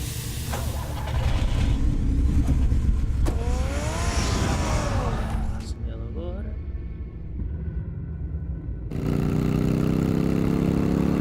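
Batmobile from the Batman Telltale video game, its engine starting and driving: a steady mid-pitched car engine hum with a revving rise partway through, heard alongside speech and game music.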